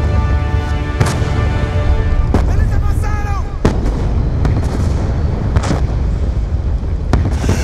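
Mortar fire in the Call of Duty Black Ops 2 video game gives repeated sharp blasts over a constant rumbling battlefield din, with voices shouting in the background.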